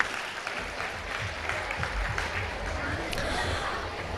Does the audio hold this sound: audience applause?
yes